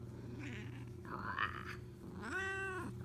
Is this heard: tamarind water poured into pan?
no